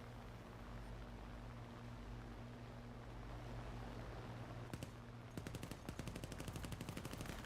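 Machine gun fire at an aircraft in War Thunder: a steady engine drone runs underneath, then rapid bursts of automatic fire break out near the end, close and loud, with a few sharp shots before a sustained rattling volley.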